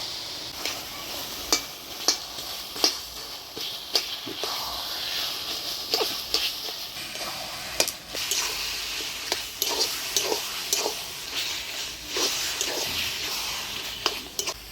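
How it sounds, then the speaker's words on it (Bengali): Taro greens frying with fried hilsa fish head in a pan, a continuous hissing sizzle punctuated by frequent scraping clicks of a spatula stirring at an uneven rhythm, close and moderately loud without speech. "কচু শাকটা ভালো করে নাড়াচাড়া করে নিলাম। এবার ভেজে রাখা মাছের মুড়া দিয়ে দিব।"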